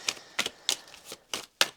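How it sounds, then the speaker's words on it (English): Tarot cards being shuffled by hand, a series of short crisp riffling snaps in an irregular rhythm, close and fairly quiet, with no talking. "again, my very poor shuffling."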